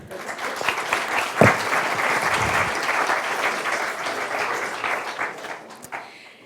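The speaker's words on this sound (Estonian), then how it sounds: "aitäh teile, teeme väikese aplausi" Steady applause from a crowd, dense and even throughout, swelling slightly and then tapering off toward the end.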